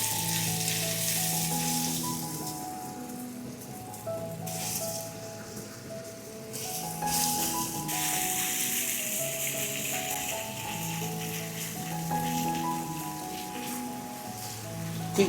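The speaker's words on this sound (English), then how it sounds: "In with our marinated beef." Marinated beef stir-fries in a hot pan after ginger has browned in the oil, giving a loud, continuous sizzle with bursts of spattering. Clanks and scraping from stirring and tossing run through it.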